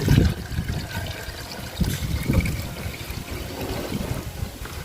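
Water pours and trickles into a watering can for roses, a fairly near, uneven splashing gurgle that swells and eases over several seconds with no talking.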